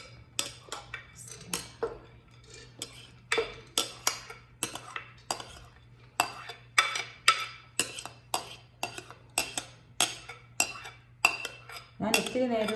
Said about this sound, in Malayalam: ആദ്യം നമുക്ക് കഴുകി കുതിർത്ത് വെച്ചേക്കുന്ന ദാൽ കുക്കറിലോട്ടിടും